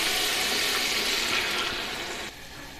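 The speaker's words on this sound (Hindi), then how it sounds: "तो अभी इसमें हम पानी डालेंगे।" Water poured into a cooking pot of potatoes and chillies for potato biryani, a steady rushing splash that runs for a couple of seconds, then drops to a quieter trickle, close and alone.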